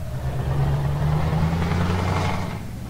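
A truck engine in Euro Truck Simulator 2 runs steadily as a low, continuous drone with a faint rising whine, holding at an even loudness for about three seconds with no voices over it.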